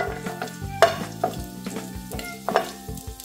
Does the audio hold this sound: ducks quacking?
no